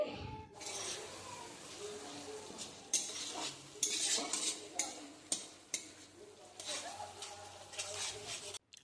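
A chicken masala mixture with chopped green chilli is stirred in a pan, giving repeated scraping and clattering strokes of a spoon over a soft sizzle, close and moderately loud.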